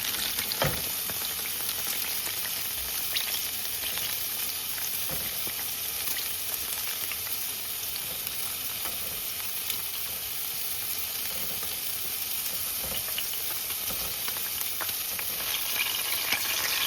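Eggplant and pork fry in a pan with a steady, dense sizzle and occasional crackles and stirring clicks, close and continuous with no voices.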